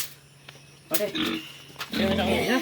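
Pig grunting close by in a farm setting, short rough grunts coming in two bursts with a person talking over them.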